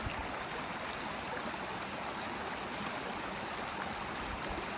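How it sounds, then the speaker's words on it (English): A mountain stream rushes steadily across a water crossing on the Appalachian Trail between Hawk Mountain and Gooch Mountain, a dense, even wash of flowing water heard close and alone. "this is one of the coolest water crossings we've had so far."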